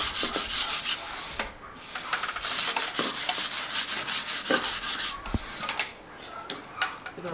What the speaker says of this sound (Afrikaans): skuur.